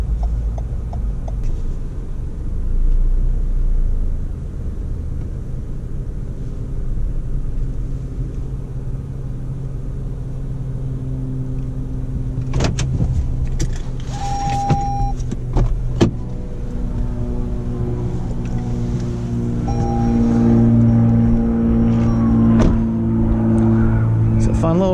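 A 2019 Toyota RAV4 XLE AWD drives along with a steady low engine and road rumble inside the cabin, joined midway by a few ticks and a brief chime while a person talks over it.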